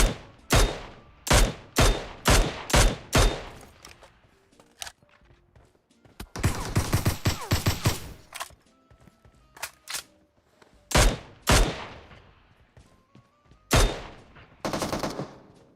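Gunfire in the battle royale game PUBG Mobile, played on mobile: a rapid run of sharp shots, then a dense sustained automatic burst, then scattered single and paired shots with brief quiet gaps between them.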